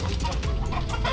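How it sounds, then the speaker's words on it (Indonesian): Fighting roosters cluck continuously, close and loud, at a raided cockfighting gambling site in Sukamaju village, Subang, West Java. "Barang bukti berupa ayam aduan."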